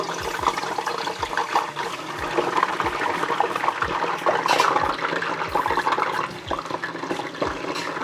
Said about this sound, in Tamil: இப்போ நாங்கள் வடித்த கத்திரிக்காயை எண்ணெய்க்குள்ளே போடுறேன்.